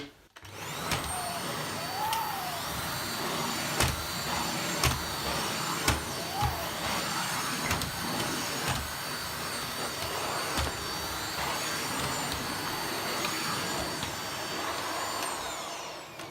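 A Dyson Ball Animal 2 upright vacuum runs on a rug with a loud steady motor whine, broken by occasional sharp clicks and knocks as the head moves, with no talking.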